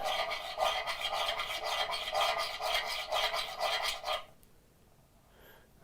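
Steady rhythmic rasping of a file stroking the edge of a steel card scraper held at 90 degrees, about a dozen even back-and-forth strokes close up, then stopping into near silence.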